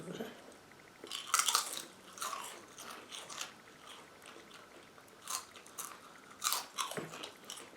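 Someone bites into colorful Syrian puffed chips, producing repeated close, crisp crunches and chewing under faint background noise.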